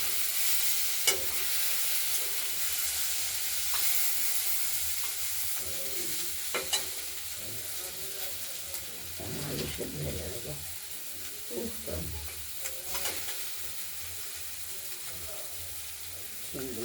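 Flat beans and red sweet potato fry over low heat in a wok with a continuous sizzle, while a spatula stirs and scrapes at irregular intervals, growing busier midway.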